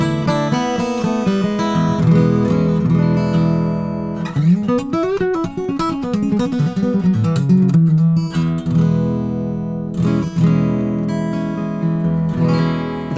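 A McPherson Touring carbon fiber acoustic guitar plays, with bright strummed chords and picked notes ringing close and clear, including a quick run of ascending notes in the middle, with no talking.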